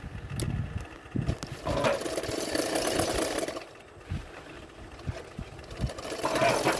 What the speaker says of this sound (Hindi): तो मैं इसी तरह से सिलाई कर रही हूँ 1/2 इंच मार्जिन रखते हुए।